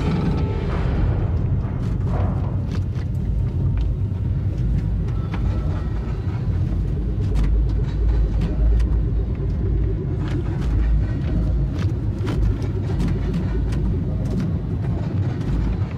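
A tram ride in Dead Space 3, a steady heavy rumble and rolling clatter of the car on rails that stays loud and continuous throughout, with no talk over it.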